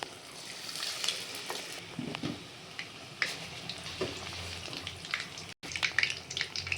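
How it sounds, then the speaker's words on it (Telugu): Garelu, Indian lentil fritters, deep frying in hot oil, a steady close sizzle and bubbling that runs throughout with small pops and faint clinks, no voices heard. "ఇప్పుడు డీప్ ఫ్రై చేసుకోవాలి ఈ ఒత్తుకున్న గారెలు"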